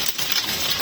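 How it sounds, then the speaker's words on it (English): Hail falls on grass and pavement in Illinois, a dense, loud, close patter of hard ice pellets that keeps up throughout, with no voices. "I never saw rock rain in this way in my entire life"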